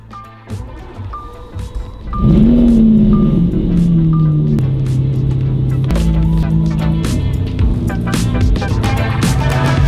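A Lamborghini Aventador drives along, its engine rising into a loud sustained drone with shifting pitch and a few gear changes, accompanied by scattered clicks and rustles inside the cabin.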